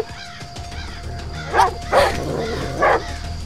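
Dogs bark three times in the survival video game Die Young, fairly loud, spaced bursts over a steady outdoor ambience and low background hum.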